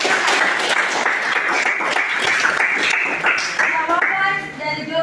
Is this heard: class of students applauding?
yes